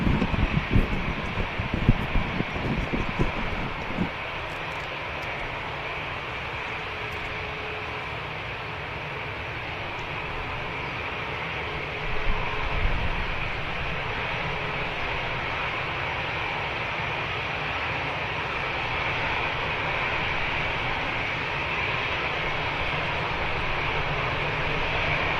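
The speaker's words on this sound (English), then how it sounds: "Ryanair heading out to Paris Beauvais. 737 MAX 8200." A Ryanair Boeing 737 MAX 8200 departs for Paris Beauvais, its jet engines producing a broad, sustained roar that holds steady at a distance for the whole stretch, with a few brief rustles near the start and no speech.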